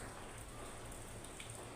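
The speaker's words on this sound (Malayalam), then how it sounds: "പുറത്ത് നല്ല മഴയാണ്, നല്ല കാലാവസ്ഥയാണ് ഇന്ന്" Steady rain falls outside a home in Kerala, a soft continuous hiss of drops with no breaks, faint and even throughout the short stretch, with no voices.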